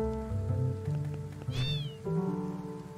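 A cat in the video game Rune Fencer Illyia gives a single short, rising meow over steady game music with a soft rain-like background.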